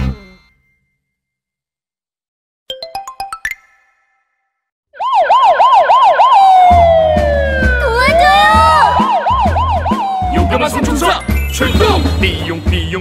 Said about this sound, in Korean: 삐용삐용삐용 나는 경찰차.